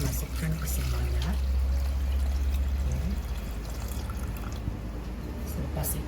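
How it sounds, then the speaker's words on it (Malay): Coconut water pours steadily into a cooking pot for several seconds with a low trickling, splashing sound, a faint voice briefly in the background. "Selepas itu kita masukkan air kelapa."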